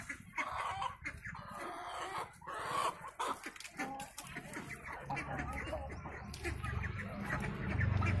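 Backyard chickens cluck in quick, irregular bursts while children feed them fish, with other farmyard noise mixed in. The clucking is faint and fairly distant, with some voices in the background.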